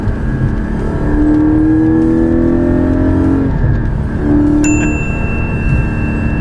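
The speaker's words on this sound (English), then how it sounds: "Oh, the downshifts in this car sound amazing." A Porsche 718 Cayman GT4 engine revs loudly with rising and falling pitch, blipping on downshifts, close by and continuous with no talking.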